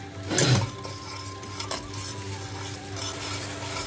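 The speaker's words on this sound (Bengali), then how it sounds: "পেঁয়াজটা আর আদা রসুনটা হালকা ভাজা ভাজা হয়ে এসছে।" Onion, ginger and garlic fry in a pan for a chicken dish with a low sizzle, opening with a sharp scrape of a spoon against the pan, then steady background cooking noise.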